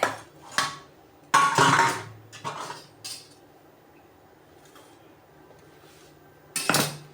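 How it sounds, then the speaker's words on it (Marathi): A metal knife cuts steamed Gujarati khaman dhokla in its metal pan, making a few sharp clinks and scrapes in separate bursts with quiet gaps between, close and fairly loud. "याला आता आपण कापू बघा कसं मस्त फुकलं"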